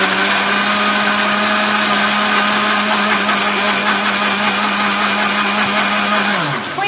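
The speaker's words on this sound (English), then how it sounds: "You just put the lid on the blender, of course. Sorry for the noise." Close, loud blender whirring steadily while blending banana, pineapple, yogurt and oats into a smoothie, one continuous motor drone that winds down at the end.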